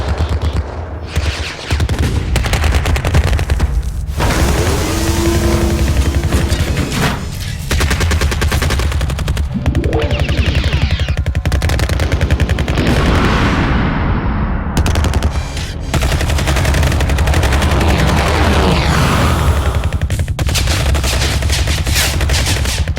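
Rapid bursts of laser gun fire sound effects crackle loudly and almost continuously, layered with sweeping zaps and whines over a dense, heavy background.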